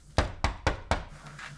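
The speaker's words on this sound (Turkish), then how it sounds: "kapı çalıyor" Four sharp knocks on a door in an evenly spaced run, fairly loud and close, followed by a quiet pause with no voices.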